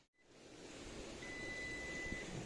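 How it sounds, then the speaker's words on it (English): Meat thermometer alarm on a smoker cooking brisket, a thin continuous high beep tone sounding faintly over a steady outdoor hiss of air and background noise. "as you can hear, the alarm is going off"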